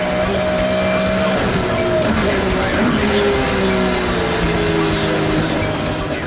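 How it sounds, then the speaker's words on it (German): A Ford GT40 and a Porsche 911 GT3 RSR race at the Nürburgring, their engines roaring loudly and continuously with rising and falling pitch as they shift and duel, with faint tire noise underneath. "Besonders an der Spitze des Feldes liefern sich der führende Ford GT40 und der Mantai Porsche 911 GT3 RSR ein erbittertes Duell."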